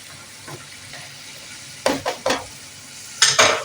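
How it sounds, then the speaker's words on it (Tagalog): Potatoes fry in a home kitchen pan for a browned finish, a steady low sizzle broken by a few sharp scraping stirs and clatters, close and loud, with no talking. "magprito muna tayo ng patatas"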